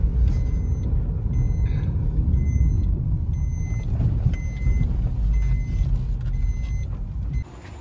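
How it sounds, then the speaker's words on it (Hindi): Car moving slowly down into an underground parking garage, a steady low engine rumble with a periodic high reversing-style beep repeating throughout, fairly close and continuous with no talk. "तो हम गाड़ी को नीचे पार्क करेंगे पार्किंग में।"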